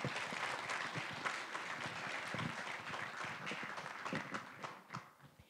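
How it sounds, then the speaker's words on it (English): An audience at an Erasmus+ education conference applauds to welcome the guests, a fairly quiet but steady wash of many clapping hands with distinct individual claps standing out, continuing without speech. "Please give it a big round of applause to welcome all of you here."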